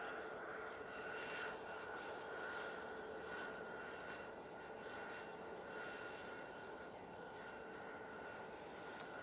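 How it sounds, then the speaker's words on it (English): A Ryanair Boeing 737-800 from Dublin arriving at Manchester Airport, its engines a steady broad roar with a whining tone, heard from a distance and unbroken throughout. "It's the Ryanair coming in from Dublin, 737-800."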